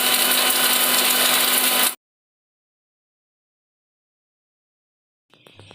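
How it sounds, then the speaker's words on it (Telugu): An electric mixer grinder grinding sesame seeds and coconut for sesame laddu, whirring loudly at high speed for about two seconds before cutting off abruptly into silence, followed by faint handling noises. "అవి గ్రైండ్ చేసుకుంటున్నాను."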